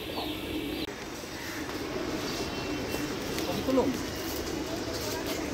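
Pigeons coo softly in low, murmuring phrases near a loft, a faint steady background hiss around them and one slightly louder burst of cooing toward the end.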